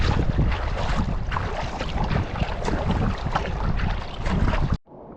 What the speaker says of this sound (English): it feels like we've got about 10 knot headwind here, or side wind really